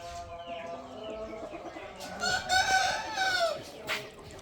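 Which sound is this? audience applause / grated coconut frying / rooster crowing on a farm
rooster crowing on a farm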